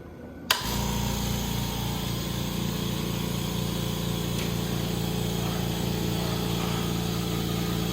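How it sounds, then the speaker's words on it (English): A Kobalt Quiet Tech 4.3 gallon air compressor starts up about three feet away and then runs steadily, its motor giving a continuous, even hum with a mechanical buzz that holds at a moderate level throughout. "the camera is approximately 3 feet away from this air compressor. And it really is not loud at all."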